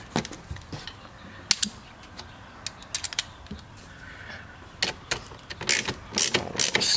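Several quick, sharp ratcheting clicks in separate bursts, close and fairly loud, as 13 millimeter nuts are snugged down on the battery hold-down of a C7 Corvette, with brief quiet gaps between bursts and no talking.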